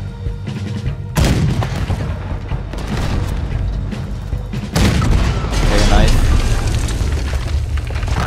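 Heavy cannon fire and explosions in Red Dead Redemption 2, loud booming blasts and rumbling bursts stacked densely across the stretch, with a sharp onset near the start and another surge midway, voices talking over the barrage.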